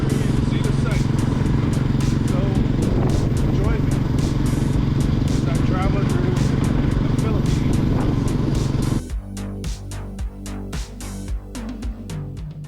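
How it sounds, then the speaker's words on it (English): A motorized tricycle, a motorcycle with a passenger cab, carries riders through a town in Balayan, Philippines, with a loud steady engine drone that drops away near the end, leaving quieter rattles and knocks. "This is my first ride on a motorized tricycle."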